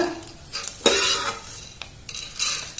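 Vermicelli roasting in a pan is stirred with a utensil, making intermittent scraping and clinking bursts over a faint background sizzle, close and moderately loud.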